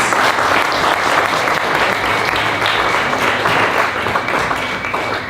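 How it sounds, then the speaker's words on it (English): Loud, dense applause from a large audience at the Influencers Unite 2018 event fills the whole stretch, steady and close, without a break. "I think we all deserve a round of applause."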